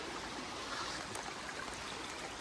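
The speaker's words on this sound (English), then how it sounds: "there was quite a bit of water flowing, but nothing like this" Water rushes steadily down a watercourse along a path, a dense, even broadband flow with no breaks, close and fairly loud, with nothing else heard over it.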